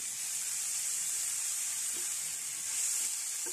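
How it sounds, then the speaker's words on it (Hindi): Garlic and crushed green chillies fry in oil with a steady, loud, close sizzle that holds through the whole clip, with no voices over it. "अब इसमें 1 खाने का चम्मच कुटी हुई सब्ज मिर्च शामिल कर लेती हूँ।"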